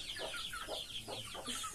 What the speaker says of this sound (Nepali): सरिना र म चाहिँ टर्की समाउन आएको छु।